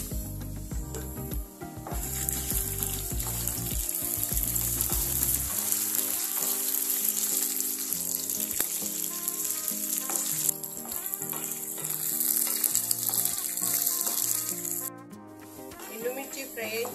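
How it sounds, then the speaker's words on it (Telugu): Dried red chillies sizzle and crackle in hot oil for an Indian ginger pickle, a loud, steady frying hiss with occasional stirring clinks and scrapes from the pan throughout. "ఇందులోనే ఎండుమిర్చి వేసి ఫ్రై చేసుకోవాలి."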